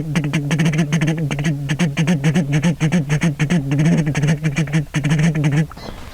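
A duck call blown in a fast, continuous feeding chuckle, rapid rolling clucks repeated steadily for several seconds, loud and close, then stopping abruptly near the end.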